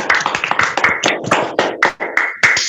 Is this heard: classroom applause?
yes